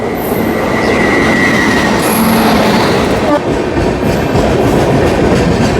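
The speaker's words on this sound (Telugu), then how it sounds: "ఇదిగోండి వచ్చేస్తుంది మన ట్రైన్" Loud, continuous rumble of a Visakhapatnam to Tirupati train arriving at a station at close range, with faint wheel squeals riding above the roar.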